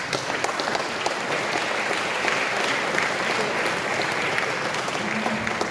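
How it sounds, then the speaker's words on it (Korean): An audience applauds steadily and densely for a professor being welcomed on stage at a concert event, a sustained wash of many hands clapping throughout with no pauses. "박수로 맞이해 주십시오"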